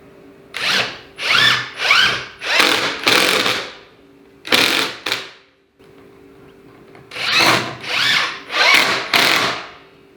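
Power drill boring into very dry, 80-year-old wood lubricated with oil for a garden bed frame, close and loud, in repeated short whining bursts with a pause midway.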